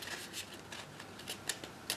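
Scissors snip through a letter-size sheet of paper, cutting it in half as part of making paper dahlia decorations: a few short crisp slicing strokes at close range, with no talking.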